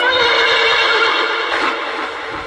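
A horse gives a loud, close neigh with a snort as an audiobook sound effect: one sustained whinny that fills the moment and fades slightly at the end, with no talking.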